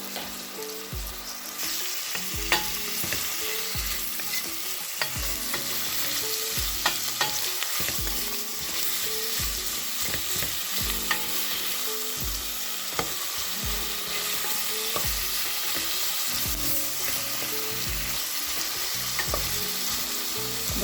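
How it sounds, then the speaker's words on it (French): Onions, with a little garlic and pepper, sizzle in a pot at the start of a leek soup, a steady loud frying hiss with occasional stirring scrapes and clinks close by. "je laisse juste mes oignons cuire jusqu'à ce qu'ils deviennent pratiquement transparents"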